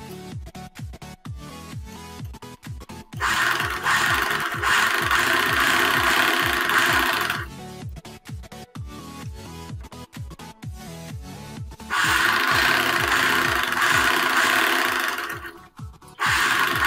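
A sewing machine runs up a strip on a designer blouse in close, fast rhythmic bursts of stitching, broken by brief pauses and a louder whirring stretch as the speed changes.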